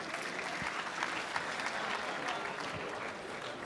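An audience at a Rwandan comedy show applauds in a steady, dense round of clapping. It is heard at a moderate distance with no clear speech over it.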